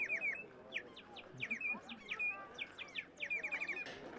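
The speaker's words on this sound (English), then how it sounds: "this charming young woman has the most delightful bird whistle" A handheld bird whistle trills at a medieval market in Visby, Gotland, giving repeated bright chirping bursts in quick clusters over a faint murmur of the crowd.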